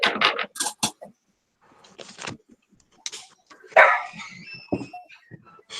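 A dog barks and yips in several sharp bursts, close and fairly loud, with whimpering sounds between them, while people talk and chat nearby in an indoor hangout setting.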